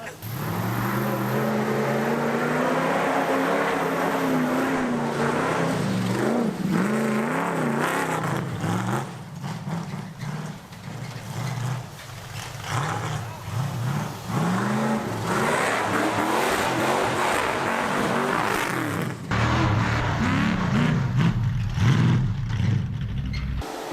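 A 318 engine in a junker rally car revs hard and loud at close range, rising and falling in pitch as it accelerates and shifts, with a brief lull midway before it roars again.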